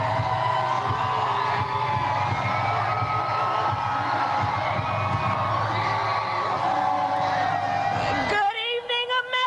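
A political rally crowd cheers and whoops loudly and continuously in a large arena, a dense roar of voices that cuts off abruptly near the end, where a single voice comes in.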